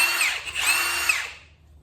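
A Milwaukee M18 Fuel cordless power tool whirs up as its trigger is pulled, a close, loud high-pitched motor run of about a second and a half that winds down and stops, no voices.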